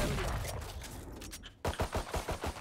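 Shotgun blasts from the Shorty in the game Valorant land as a quick run of sharp, punchy bursts in close succession, following a muffled stretch of game noise.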